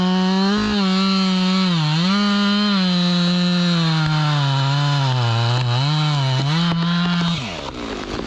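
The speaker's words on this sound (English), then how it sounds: "It has quickly turned into my favorite freaking chainsaw I've ever used." A Husqvarna 592 XP chainsaw cutting wood during logging, running loud and steady at high revs with slight pitch dips as it bites into the log, then winding down near the end.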